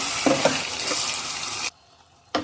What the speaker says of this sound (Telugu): వెల్లుల్లి కారం వేసినాక అంతా కలిపేసుకోవాలండి నీట్గా మొత్తం